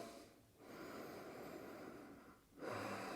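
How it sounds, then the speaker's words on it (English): Quiet, close breathing during a held exercise pose, slow drawn-out inhales and exhales through the nose with a short pause between breaths. "You can hear me focusing on my breath"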